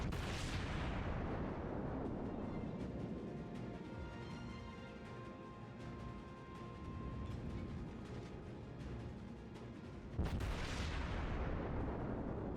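A Cleveland cruiser's guns fire HE shells in World of Warships, a loud, rumbling salvo that fades away, followed by a second heavy blast near the end.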